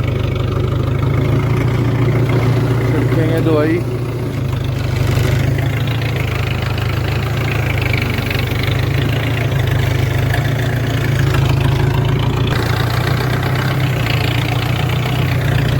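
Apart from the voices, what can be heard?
tractor engine idling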